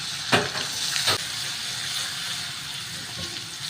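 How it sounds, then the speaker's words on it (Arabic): Onion frying in a pan for Egyptian koshari sauce, a steady close sizzle with two brief louder bursts near the start, likely from stirring, and no talking. "حمرنا البصلايه النونه ديت"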